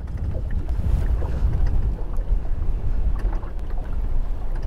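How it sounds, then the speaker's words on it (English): Steady, strong wind roars across an open stillwater lake beside a fishing boat, a constant low rush buffeting the microphone with no talking. "when it's windy, as it is today"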